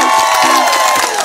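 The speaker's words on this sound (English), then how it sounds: "Let's applaud them." Wedding guests cheer and applaud the newly announced couple in a loud, dense burst of crowd noise with shouts and whoops, steady throughout the short moment.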